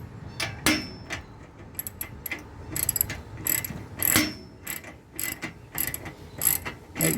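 A socket wrench with a 19 mm socket ratchets down a bolt on an Erickson aluminum cargo carrier, a rapid series of close, crisp clicking bursts in uneven strokes with short pauses between them.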